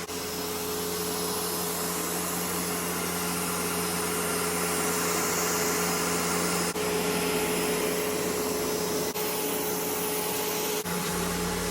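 An Ecovacs X2 Omni robot vacuum cleaner runs with a steady, loud broadband whir and a constant motor hum, continuous and close, with no voices.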